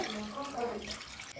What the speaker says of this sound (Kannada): ಇಲ್ಲಿ ನೋಡಿ ಈಗ ನೀರನ್ನ ಸೇರಿಸ್ಕೊಳ್ಳಿ